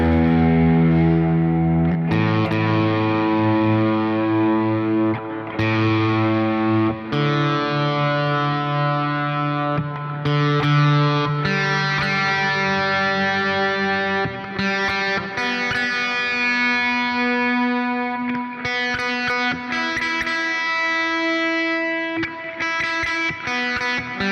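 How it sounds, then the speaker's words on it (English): A distorted electric guitar strung with brand-new strings plays sustained chords and riffs through effects with echo, loud and continuous, as the player checks the tuning; no one speaks. "Out of tune this guitar again. Hold up, we're just a little bit out of tune."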